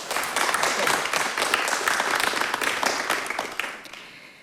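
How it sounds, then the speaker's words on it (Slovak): An audience at a talk bursts into dense, sustained applause welcoming a guest, many hands clapping at once before the sound tapers off near the end. "Privítajte ju potleskom."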